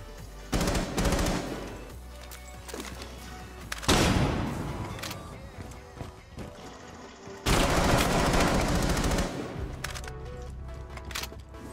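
Gunfire through the floor in Rainbow Six Siege, long loud bursts of automatic shots with a heavy low thump, separated by quieter stretches and ending in scattered rounds.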